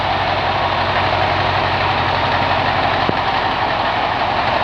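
A 1978 Peterbilt 352H truck with a 450 hp Cat 3408 precup engine idles, a loud steady diesel rumble and roar close by, unbroken throughout with no voices.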